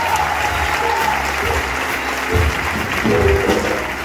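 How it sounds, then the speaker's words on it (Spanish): Audience clapping for a woman named Josefina at a Spanish-language big band concert, loud sustained applause filling the whole stretch, with brief low bursts of voices or cheers partway through. "un aplauso para ella, por favor."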